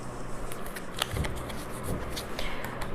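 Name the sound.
shuffling a tarot card deck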